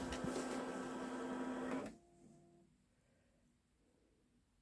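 A Babylock Solaris embroidery machine whirs loudly as it moves the hoop during edge-to-edge quilting, then stops abruptly, leaving a faint hum and quiet room tone.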